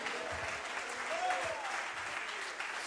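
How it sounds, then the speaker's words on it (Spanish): Church congregation applauding during a Spanish-language sermon, a dense, steady wash of clapping from many hands, somewhat distant and reverberant, with a voice calling out over it. "Dele fuerte el aplauso al Señor."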